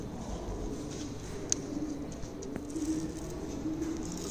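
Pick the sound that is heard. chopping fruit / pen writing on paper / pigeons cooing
pigeons cooing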